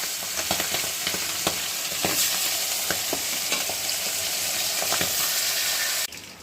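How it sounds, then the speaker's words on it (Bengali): Fish heads frying in hot oil in a wok, a steady loud sizzle with repeated crackles and spatters from stirring, ending in a sudden brighter hiss near the end. "এবার আমি এক এক করে মাছের মুড়োগুলো ভেজে নেব।"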